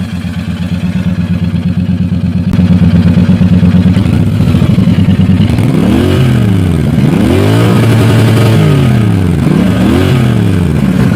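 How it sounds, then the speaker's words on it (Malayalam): A Royal Enfield Interceptor Bear 650 twin-cylinder motorcycle idles with a loud, close, throbbing exhaust note, then is revved repeatedly in rising and falling blips. "നമുക്കിനിപ്പോൾ ഏതായാലും ഇതിൻ്റെ നിലവിലുള്ളൊരു എക്സോസ്റ്റ് നോട്ടും കാര്യങ്ങളൊക്കെ കേൾക്കാം"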